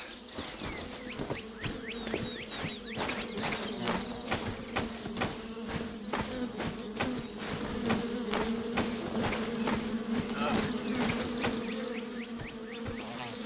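Bees buzz around a hive in a video game, The Vale: Shadow of the Crown, a close, continuous insect drone threaded with rapid clicking taps and brief higher chirps, with no speech over it.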